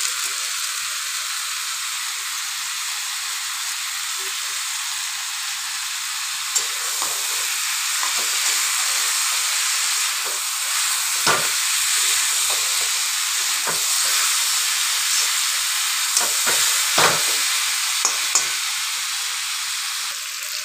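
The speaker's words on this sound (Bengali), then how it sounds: "এবার মাংসটাকে কষাবো আস্তে আস্তে।" Chicken with spices being sautéed and stirred in a pan, potatoes fried beforehand; a steady loud sizzle and hiss continues throughout, broken by occasional scraping stirs.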